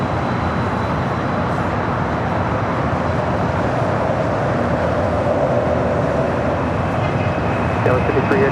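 A Latam Boeing 767-300ER airliner rolls down the runway at LAX, a loud, steady broadband roar of jet engines that holds for several seconds without letting up.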